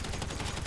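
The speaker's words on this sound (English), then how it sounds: "Sniper fire!" Sniper fire in Grand Theft Auto V during a sawmill shootout, a dense, rumbling barrage of gunfire that continues without a break through the short moment.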